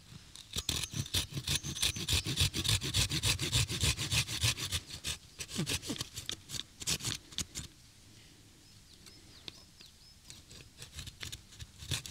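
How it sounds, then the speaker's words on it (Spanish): A wooden stick is sawn in half outdoors with rapid, rhythmic back-and-forth rasping strokes that slow and thin out near the end, followed by quieter scraping. "ahora toca solamente dividir este palo por aquí en medio"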